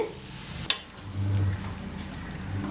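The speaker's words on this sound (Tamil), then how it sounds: "தண்ணி நல்லா கொதிக்க ஆரம்பிச்சிருச்சு" A steady broadband hiss and simmer from water boiling in a pan on heat before semolina is added for rava kichdi, with a sharp clink near the start and a low hum underneath.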